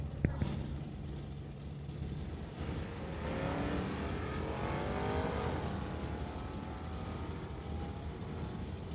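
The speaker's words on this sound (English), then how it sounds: "That brings up Sylvia Hoekstens in the Ford Mustang as the last driver to put down a time at" A Ford Mustang makes a sportsman qualifying drag run, heard from a distance with a rising, accelerating engine roar through gear changes over crowd noise and an announcer's voice.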